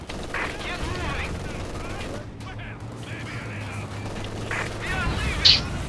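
Machine gun bursts from a Company of Heroes 2 battle, dense rapid rattling mixed with explosions and game noise over a steady low rumble, with a sharp louder crack near the end.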